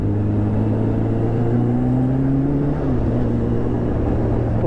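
Kawasaki Ninja H2 motorcycle engine with a quieter exhaust, a steady low drone close by that rises slightly in pitch midway and settles, with no talking.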